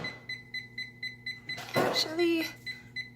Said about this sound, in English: Let me put the timer on.